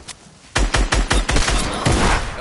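Gunfire in a PS4 video game: a close, loud burst of rapid shots, about half a dozen sharp reports in quick succession, followed by a rougher rattle of continued fire.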